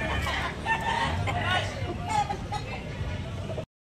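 Roosters and gamecocks, including a McLean crossbreed, cluck and crow at a Sunday gamefowl market in Tabunok, Talisay, under a steady babble of many people talking nearby.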